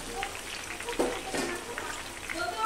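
Pieces of taro frying in oil left over from frying rohu fish, a soft, close sizzle with irregular crackles and small pops, fairly quiet throughout.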